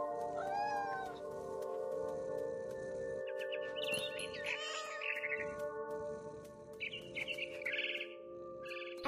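A cat in the video game What Remains of Edith Finch meows several times in a row, fairly loud, with chirping birds and faint background ambience around it.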